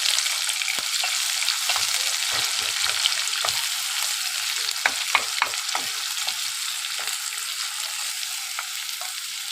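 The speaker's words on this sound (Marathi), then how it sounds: "जे बारीक कटिंग करून ठेवलेले जे कांदे आहेत 3 मीडियम साईजचे छोटे, ते आपण चांगले फ्राय करून घेणार आहोत" Three medium-sized onions, finely chopped, fry in a pan for mushroom masala, giving a steady close sizzle with scattered crackles and pops throughout and no voices.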